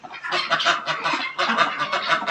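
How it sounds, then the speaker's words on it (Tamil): A male duck on a garden farm gives repeated loud, nasal honking calls in close, quick bursts, with no other voices present. "இதான் ஆணு வாத்து."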